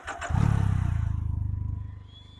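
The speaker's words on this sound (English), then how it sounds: "The next thing I'm going to do is rotate the throttle once and click the ignition button." A Can-Am Ryker three-wheeler fires up after the ignition button is pressed: a brief cranking clatter, then the engine catches into a loud, close, rapid idle pulse that gradually settles and fades slightly.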